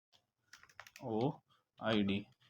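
A computer keyboard clicks as keys, including Enter and Shift+Alt, are pressed in MS Word, with light taps mixed among voiced sounds, close and moderately quiet.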